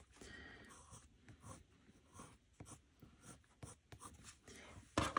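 A Caran d'Ache Luminance coloured pencil scratches and burnishes across paper in quick, uneven strokes, faint and close up, with short pauses between bursts.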